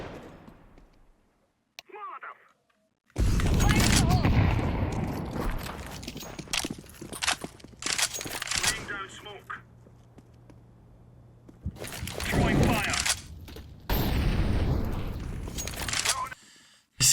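Counter-Strike 2 match with loud bursts of rapid automatic gunfire separated by quieter stretches, plus footsteps and a person talking over parts of the action.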